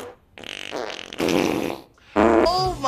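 A fart sound effect in several sustained, buzzy blasts of varying pitch, with brief pauses between, loud and close.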